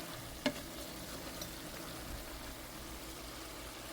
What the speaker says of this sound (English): Trying to get some color on this burger